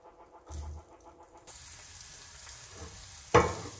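Chopped green chilies and onion hit hot oil with cumin and mustard seeds, setting off a sudden loud sizzle that keeps frying steadily, with a sharp clatter of utensils near the end.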